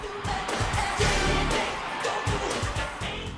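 A huge concert crowd at a 1993 performance in Mexico City roars and cheers continuously, a loud wash of voices with rhythmic surges.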